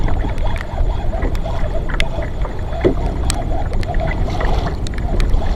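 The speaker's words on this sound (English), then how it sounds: "I just turned the boat around." A boat moves through water with a steady low rumble, splashing and sloshing against the hull, plus scattered knocks and clicks throughout.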